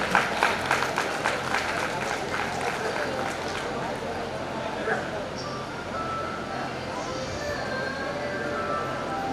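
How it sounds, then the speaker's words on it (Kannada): An audience claps together at a felicitation ceremony honouring teachers, with steady applause that is densest at the start and then carries on evenly, and talk can be heard underneath. "ಮಾಲಿಂಗಮ್ಮ ಅವರಿಗೆ ಚಪ್ಪಾಳೆ."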